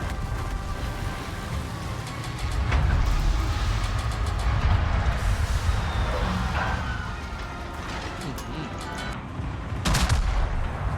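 The warship Ipiranga fires its guns in the video game World of Warships, heavy booming salvos at spaced intervals over a constant loud rumble of engine and sea noise.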